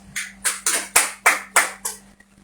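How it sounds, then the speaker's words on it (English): Audience clapping for a boxer being introduced on a talk show, seven distinct rhythmic bursts of hand claps in steady tempo, fairly close and loud, then stopping. "Please, let's clap for him."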